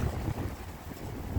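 Wind buffets a microphone at an outdoor shooting range, a brief low rumbling gust that stays steady and fairly faint for its short length.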